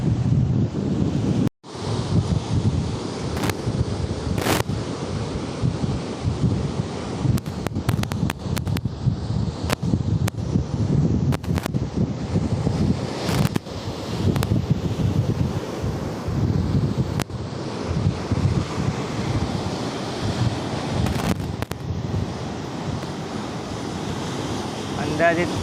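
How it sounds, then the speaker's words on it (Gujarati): Sea waves surge and break on the Diu shore, huge swells estimated at 20 to 30 feet, with a steady roar of surf and heavy wind buffeting the microphone throughout. "અંદાજિત 20-30 ફૂટના મોજા આવતા હશે. જો હા, કેટલું મોજું મારે છે."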